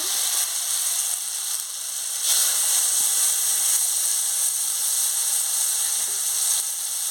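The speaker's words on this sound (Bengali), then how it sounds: "এবার আমি পোস্ত বাটাটা দিয়ে দিচ্ছি দিয়ে ভালো করে ভেজে নিচ্ছি" Poppy seed paste frying in hot oil in a wok, a loud, dense, unbroken sizzle and crackle close up with faint scraping underneath, no speech.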